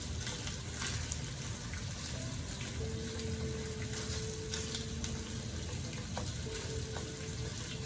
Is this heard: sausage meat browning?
yes